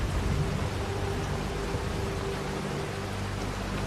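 Dense, steady rainfall with a low continuous rumble that may be distant thunder, even and unbroken with no voices.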